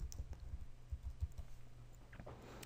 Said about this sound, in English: So I could type in East Asian